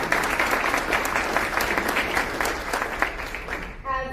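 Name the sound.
audience applause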